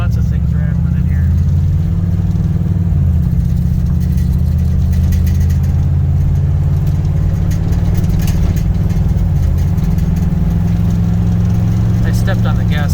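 Interior of a 1984 Hurst/Olds on the road, a steady low engine drone with shifter-area rattles and buzzing from loose trim, as someone talks over it.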